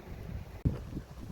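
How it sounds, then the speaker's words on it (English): Gusty outdoor wind buffeting a microphone, a low rumbling rush with a sharp thump midway, steady and fairly close, with no talk over it. "the wind's still blowing"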